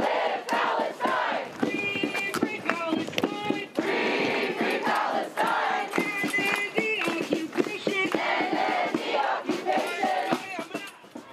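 About 1,000 protesters march near the heart of the UC San Diego campus at a Palestine protest, a loud, dense crowd of chanting and shouting voices with claps and scattered sharp knocks throughout.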